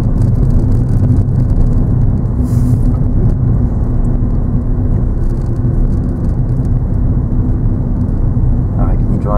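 A car pulling away during a driving lesson, its engine hum and road roar steady and loud throughout, with people talking over it.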